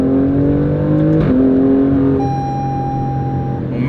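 Loud, close 2.9-liter twin-turbo V6 of an Alfa Romeo Stelvio Quadrifoglio accelerating, its steady engine drone climbing in pitch, then a quick shift and a renewed climb with a thin high whine on top.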